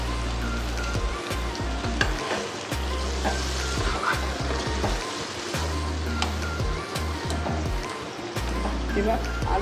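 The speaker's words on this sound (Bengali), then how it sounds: "এর সঙ্গে ম্যাচিওর এসবটাই ভালো লাগবে, তাই জন্য আমি লিভারের সেদ্ধ স্টকটা দিয়ে দিচ্ছি।" Boiled mutton liver stock poured into a frying mutton liver curry with raw jackfruit, giving a steady loud sizzle and bubbling hiss with stirring scrapes, beneath a continuous low hum.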